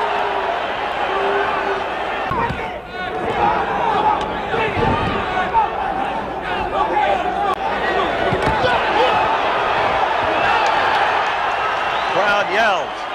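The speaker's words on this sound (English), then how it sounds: "Crowd yells." Boxing crowd at a knockdown in a Sugar Ray Leonard fight roars and yells loudly, a sustained wall of noise with sharp surges, heard under a commentator talking throughout.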